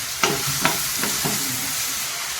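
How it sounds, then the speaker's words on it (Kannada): A spoon stirs chopped tomato with salt frying in a pan for a spinach and green gram gravy, four soft scraping strokes about half a second apart over a steady, close sizzle, with no voices. "ಇಲ್ಲಿ ನಾವು ಉಪ್ಪು ಹಾಕಿ ಸ್ವಲ್ಪ ಈ ಥರ ತಿರುಗಾಡಬೇಕು"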